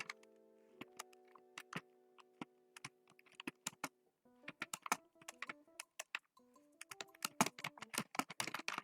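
Code being typed on a computer keyboard for a C++ loop example: irregular bursts of crisp key clicks, close and fairly quiet, with brief pauses between runs of keystrokes.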